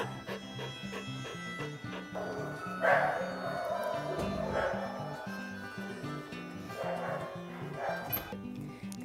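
A 12-week-old redbone hound and Great Pyrenees mix puppy in an animal shelter gives a few soft yips and barks over a steady background of music.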